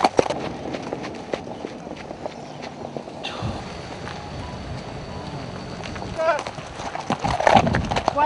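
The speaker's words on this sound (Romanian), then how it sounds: "Am plecat cu calul" Horse hooves clip-clop steadily as the animal is ridden away from Jilava Penitentiary, mixed with crowd noise and people talking nearby, with a brief neigh-like sound near the end.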